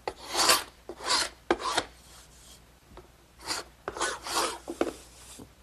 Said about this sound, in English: I want to just scrape off the little beads of glue that squeeze through